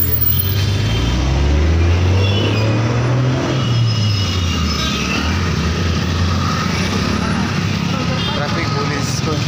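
Car traffic moves along a busy city road by a BRT lane in Pune, a loud, continuous roar of engines and tyres close by with a low rumbling vehicle passing, and no clear speech.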